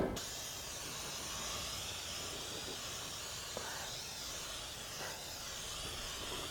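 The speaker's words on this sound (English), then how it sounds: "We're going to go ahead and spray it down." A steady close hiss of aerosol spray coats a new rear brake rotor for a 2004 Subaru Outback, stripping its factory anti-corrosion coating, with a faint clunk or two partway through and no talking.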